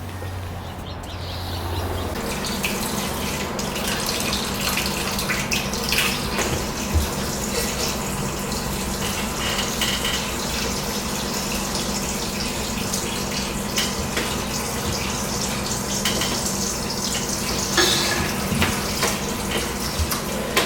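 Tap water runs steadily into a kitchen sink being filled for a small child's bath, a continuous close splashing rush that starts within the first two seconds and carries on unbroken, with no talking.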